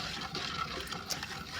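Room-temperature water poured into a bowl for bread roll dough, a brief soft splashing trickle close by with no voices.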